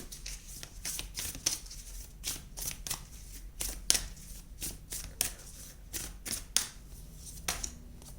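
Tarot cards are shuffled and riffled in quick repeated bursts of crisp flapping clicks, close and clear, with brief pauses between passes and no talking.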